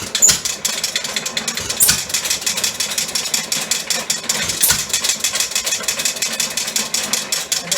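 A Fuller & Johnson farm pump engine runs with a rapid, steady chuffing and clatter, close and loud, with a couple of sharper knocks along the way.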